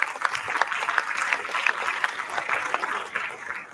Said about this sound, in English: let us give him a big applause